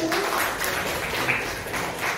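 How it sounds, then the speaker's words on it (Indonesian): A school class claps hands together in a classroom, a brief burst of mixed, overlapping clapping from many students that stays fairly even and moderately loud, with some voices in the background. "Tepuk tangan dulu."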